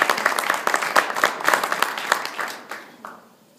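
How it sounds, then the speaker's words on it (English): A press conference audience claps in a lively burst of applause that gradually thins out and fades to a few last scattered claps near the end. "maybe we can applaud instead of ring our cowbells."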